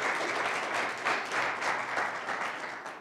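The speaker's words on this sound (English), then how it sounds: "Could I have a round of applause of appreciation for all of that?" An audience at a regional housing symposium in Northwest Arkansas gives a round of applause, steady crowd clapping lasting a few seconds with slight swells, heard alone at moderate level.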